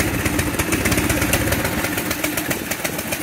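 Small go-kart engine running and revving, a continuous buzzing drone close by with a slight pulsing rise in pitch and no voices over it.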